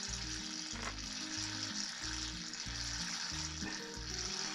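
Oil drains from a hydro-locked estate car engine with a steady fizzing hiss, continuous and fairly faint under a rhythmic low background hum.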